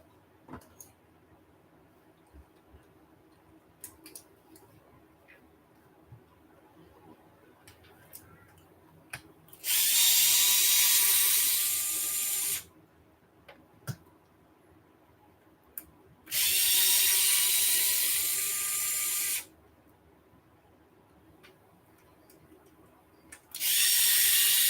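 Ratchet wrench cranking on a race car shock tower at a race track garage: three long bursts of rapid clicking, each lasting a few seconds, separated by quiet stretches with faint clinks in between.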